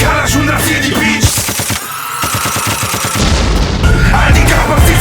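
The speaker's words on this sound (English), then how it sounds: "I think he might have the record for most gunshot samples on one album." Sampled gunshots and machine-gun bursts punched into a German rap track, with rapid staccato volleys layered over the loud beat, a brief dropout, and booming impacts throughout.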